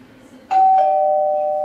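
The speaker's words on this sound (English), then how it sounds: "Ah, the door is chiming. I must answer it" A doorbell rings in a two-tone chime during a theatre group's stage play, a bright first tone followed by a second that rings out and sustains loudly to the end, with no voices over it.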